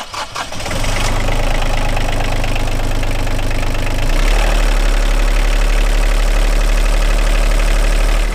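A catamaran's port marine engine cranks briefly, then catches and settles into a loud, steady running drone, with a deeper, heavier throb taking over midway as it keeps running close to the microphone.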